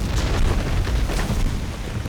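Deep rumbling explosion effect for a Clone Wars battle scene, a dense continuous low boom with crackling bursts layered over it, loud and close.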